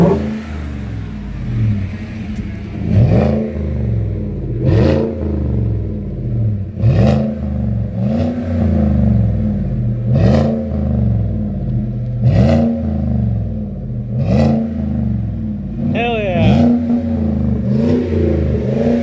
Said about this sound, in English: The exhaust is definitely louder.